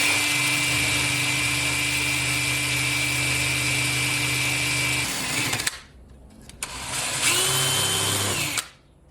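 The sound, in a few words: drill porting an intake manifold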